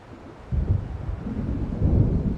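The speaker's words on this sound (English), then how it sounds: "It seems there's a storm coming." Low rumbling thunder of an approaching storm in the video game Alan Wake Remastered, a dull swell that begins after a short quiet start and rolls on, deepening toward the end, with no voices.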